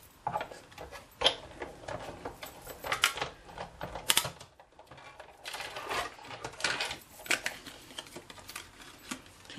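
Card being cut with a framelit die, an irregular series of soft mechanical clicks, taps and rolling crunches at close range, separated by short quiet gaps.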